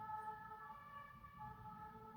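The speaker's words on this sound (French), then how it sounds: "Vous entendez l'ambulance?" An ambulance siren wails outside as a faint, steady tone that carries through the whole stretch. It sounds distant and muffled, with no talking over it.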